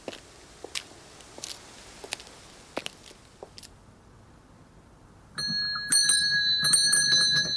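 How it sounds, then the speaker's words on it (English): Within the detective game Contradiction: Spot the Liar, a bell rings out with several bright, overlapping strikes that sustain to the end, after a stretch of soft footstep-like clicks. "Ring the bell."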